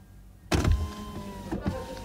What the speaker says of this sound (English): so you hear the power window actually operates